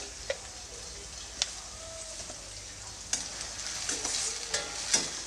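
A tomato mixture for mandakki (puffed rice) breakfast fries in a pan, a soft steady sizzle near and moderately quiet, with a few light scrapes and taps from stirring.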